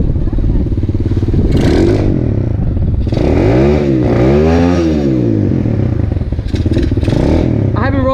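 A Coolster 125cc engine idling loud and close, rising and falling through several revs with a clattering mechanical buzz, while people talk over it.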